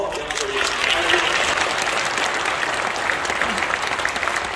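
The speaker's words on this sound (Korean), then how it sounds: "우리 하나님께 한번 영광의 박수로 영광 돌리겠습니다." A church congregation claps loudly and continuously during a 30th-anniversary thanksgiving worship service, a dense, close wall of applause with some crowd voices mixed in.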